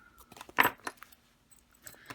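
Small metal zipper pull charms on a fabric project bag jangle, a brief cluster of light clinks and rattles, with one brighter jingle, then a few faint taps.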